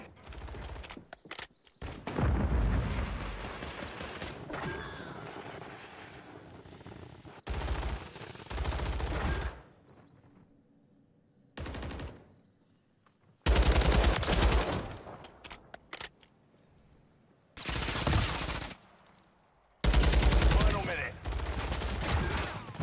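Bursts of automatic gunfire in a first-person shooter video game, loud volleys separated by quiet gaps, with brief player voices and game announcer speech between them.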